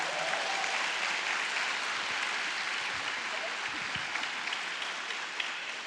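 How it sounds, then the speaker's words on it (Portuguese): A church congregation applauds steadily and fairly loudly throughout, a dense continuous wash of clapping with no break and no clear talk on top. "Pode aplaudir de novo o Senhor Jesus."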